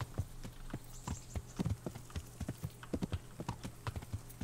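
A horse in Kingdom Come: Deliverance trots along a road, its hoofbeats a steady, fairly close clip-clop rhythm at moderate volume over a faint background hum.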